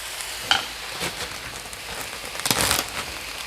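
Ground beef dropped into a hot frying pan with vegetables, giving a brief crackling sizzle and scraping stir, moderately loud and close.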